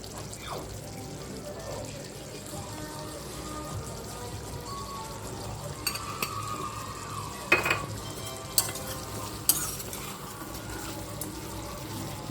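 Chicken curry in a pan with homemade masala powder and garam masala is stirred with a quiet simmering hiss, soft scrapes, and a few sharper clicks of a spoon against the pan; faint talk sits in the background.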